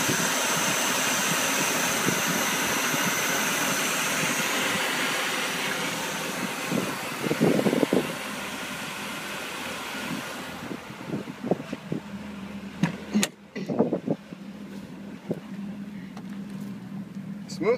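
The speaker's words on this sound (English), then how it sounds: "Power steering is low, so it's making a little buzzing." A 1990 Mercedes 300SE idles roughly after a cold start, its engine running as a steady rumble while the low power steering adds a faint buzz. Later the engine quiets and a few clicks and bumps follow.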